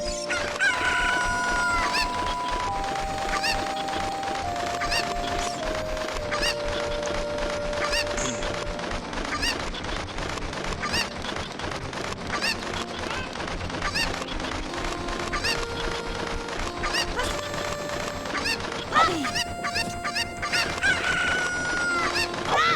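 Chickens cluck and a rooster crows in The Legend of Zelda: Ocarina of Time, game fowl sounds repeating throughout over a constant bed of game music and effects, with no talking.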